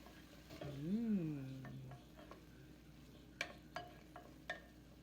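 Onion, garlic and salt sautéing in olive oil in a soup pot, a soft steady sizzle with a few sharp stirring knocks near the end, quiet and close, no talk.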